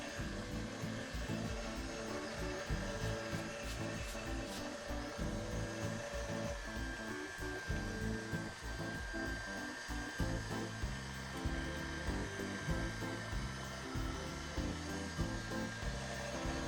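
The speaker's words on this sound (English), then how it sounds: "I've got a spaghetti cutter. Can turn that on." Electric spaghetti cutter machine running as it cuts pasta, a steady motor whir with fast rattling chatter underneath, continuous and moderately close, with no talking.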